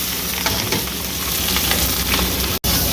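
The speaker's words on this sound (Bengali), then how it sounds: "পেঁয়াজটাকে একটু ভালো করে ভেজে নেব, একটু লাল লাল করে ভেজে নেব" Chopped onions and chili crackle loudly in hot oil with a dense, constant sizzle right up close, briefly cut off by a sharp dropout near the end.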